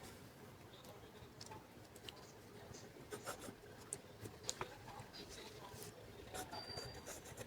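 A pen writing the area-of-a-triangle formula during a math lesson: faint scratchy strokes with small irregular taps and pauses against a steady noisy background.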